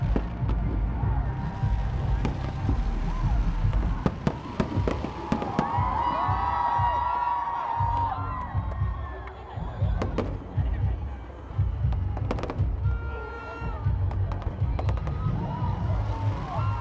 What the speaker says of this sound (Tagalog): Medyo maliit lang palang fireworks ng BGC.